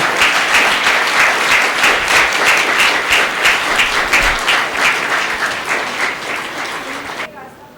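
Audience applause at a youth-themed event in Indore, a dense sustained crowd clapping that stays loud throughout and stops abruptly near the end.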